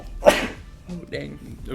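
A single sharp, loud sneeze bursts out near the start of a casual farm and FFA podcast chat among students, with speech continuing around it.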